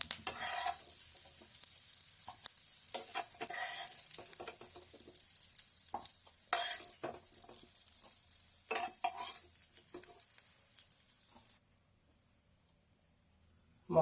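Potatoes frying golden brown in a pan, a soft hiss broken by repeated spatula scrapes and stirring bursts, fairly close and quiet, fading to near silence at the end.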